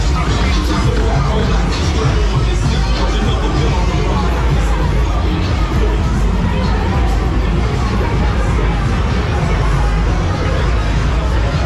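Loud dense crowd hubbub on Bangla Road nightlife street in Patong, Phuket, a constant roar of many voices and street noise with no pauses, a nearby voice talking over it.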